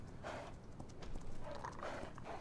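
A horse gallops in the video game ARK: Survival Evolved, a quick, steady run of hoofbeats thudding close and fairly loud for a couple of seconds without talk.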